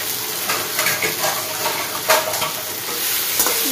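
Food frying in a pan with turmeric and salt gives a dense, close sizzle, with scattered scrapes and clinks of a spoon stirring through it and a louder knock near the middle.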